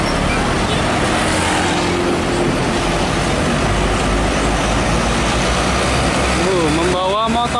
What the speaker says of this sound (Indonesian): Wih, mobil truk towing.